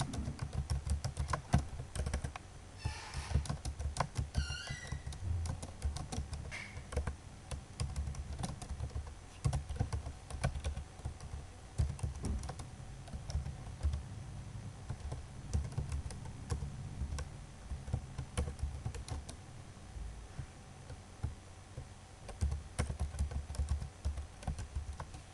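Steady typing on a computer keyboard while HTML code is written, with quick, uneven clusters of clicky keystrokes running throughout at close range, and no voices.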